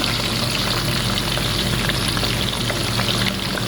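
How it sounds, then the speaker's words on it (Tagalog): Fish frying in hot oil for an Arabic fish salona, a loud, dense, unbroken sizzle that holds steady from start to finish with no talking. "mag-init tayo ng oil kasi ipa-fry natin yung fish"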